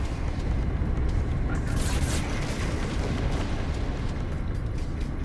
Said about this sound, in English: Positron ejector is just awesome.